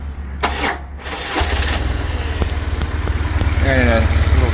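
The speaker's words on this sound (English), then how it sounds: "maybe I should probably start her up to prove that I fixed it" A motorcycle engine is started after a throttle body synchronization repair: a brief starter crank, then the engine catches and settles into a loud, close, rapid idle thrum that holds steady to the end.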